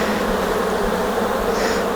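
Honey bees swarm loudly around an open hive during a June inspection in swarm season, a dense, steady buzzing drone that holds for two seconds without a pause and with no voices.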